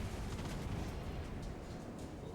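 Ship guns boom in a World of Warships Blitz naval battle, a dense rumbling barrage of continuous gunfire and explosions with no clear pauses, steady and loud throughout.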